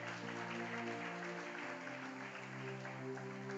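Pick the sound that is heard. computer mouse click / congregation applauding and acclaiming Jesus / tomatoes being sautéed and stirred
congregation applauding and acclaiming Jesus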